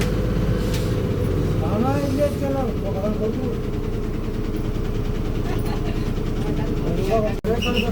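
A bus engine rumbles steadily at close range as the bus pulls away on a rainy misty road from Manjoor to Ooty, with continuous talk over it.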